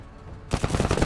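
Rapid machine gun bursts from an MG team in a video game cut in abruptly after a moment of near silence, loud, close and rattling.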